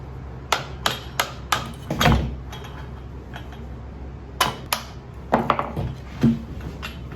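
A replacement shaft on an Echo PPT-265 pole saw is tapped into place with a string of sharp, close knocks in two clusters, some gentle and some firmer, and no talk.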